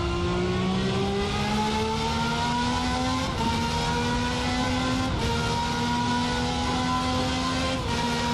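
A detuned V12 race car engine in a sim racing game revs hard and climbs steadily through the gears. The smooth, loud engine tone shifts up twice and stays alone, with no talk over it.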